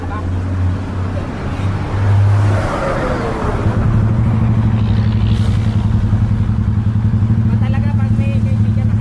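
A motorcycle engine warms up at idle during a breakfast ride stop in the rain, a steady close low rumble with a brief rev near the start, while people talk over it.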